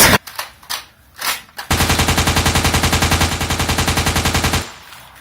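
A few loud gunshots ring out, then a machine gun fires a long sustained burst of rapid, evenly spaced shots, very close and loud, before stopping abruptly.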